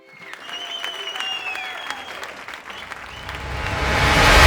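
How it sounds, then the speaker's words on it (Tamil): An audience at the 7 Star Awards 2025 ceremony applauds, the clapping starting thin, then swelling into loud, dense applause toward the end, with a few tonal sounds over it at first. "ஒரு கைத்தட்டல் கொடுத்துடலாம்."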